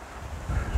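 Wind gusts buffet the open air near a dam, a short, steady rushing roar with low rumbling microphone buffeting that swells louder midway, with no voices.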